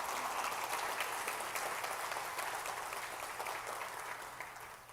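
A church congregation applauds in a dense, steady wash of clapping, heard from a distance and fading slightly toward the end.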